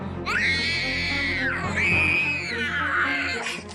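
A young boy screams loudly in three long, high, wavering shrieks close by, each rising and falling before the next.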